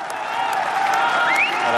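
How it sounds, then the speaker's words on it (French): A crowd cheers and applauds in the courtyard of the Élysée Palace, a dense continuous roar with scattered whoops and a rising whistle, no speech. "Je vous laisse écouter les acclamations dans la cour de l'Élysée"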